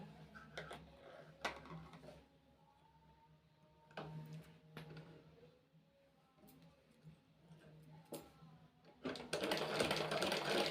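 A sewing machine stitches men's underwear in short bursts of rapid mechanical clatter separated by quiet pauses, ending in a longer, louder run of stitching.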